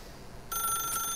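A telephone rings inside the video game The Stanley Parable, a steady bright electronic ring that starts abruptly midway and keeps sounding, close and clear, with no voices.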